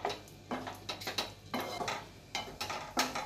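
A metal spoon clinks and scrapes against a pot while poha is stirred with milk for a Krishna Janmashtami prasad, in short irregular bursts of knocks close by, with no talking.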